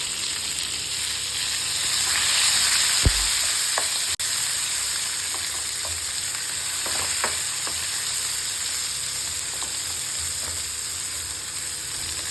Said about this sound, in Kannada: ಈಗ ಈ ಈರುಳ್ಳಿ ಗೋಲ್ಡನ್ ಬ್ರೌನ್ ಕಲರ್ ಬರಬೇಕು, ಅಷ್ಟುವರೆಗೂ ಇದನ್ನು ನೀವು ಫ್ರೈ ಮಾಡಬೇಕಾಗುತ್ತೆ